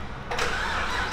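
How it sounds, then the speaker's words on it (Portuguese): A Chevrolet Camaro with a straight-pipe exhaust fires up, a sudden loud burst of raw engine roar after a brief quiet moment, continuing as a harsh, close rumble. "na hora que eu ligar o carro, rapaziada, se liga no som que vai fazer"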